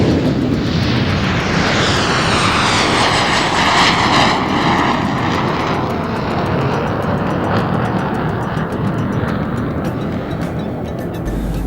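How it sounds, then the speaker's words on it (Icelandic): Three French-built Alpha-Jet trainers of the German Air Force's 431 Tiger squadron fly in tight formation at a 1986 airshow, their loud, steady jet roar filling the air and sweeping past with a rising then fading whoosh. "Næstar eru hér 3 franskar Alpha-Jet æfingavélar frá þýska flughernum."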